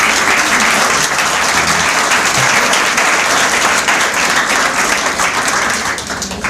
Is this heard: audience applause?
yes